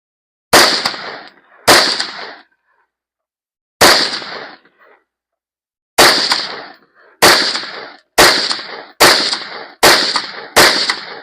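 Rifle shots fired with a Deadair Sandman X suppressor, heard from the shooter's position: nine sharp, loud reports in an irregular series, each with a brief decaying tail, no talking.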